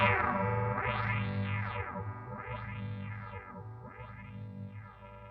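Repeated sweeping arcs from a Moogerfooger 12-stage phaser climb in harmonic steps over a steady droning tone, each rise and fall rolling smoothly at moderate volume.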